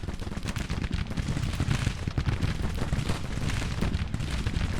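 Civil War artillery and massed musket fire in the Grand Tactician strategy game, a dense continuous rumble of overlapping shots and booms holding steady at full loudness throughout.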